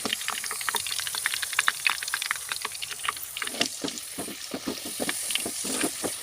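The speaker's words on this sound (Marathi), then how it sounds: "अशा प्रकारे याला छान असं आता पुन्हा एकदा आपल्या तेलामध्ये ठेवून देऊया." Potato wafers frying in hot oil in a pan for crispy batata chips, a steady loud sizzle with dense crackling bubbles throughout.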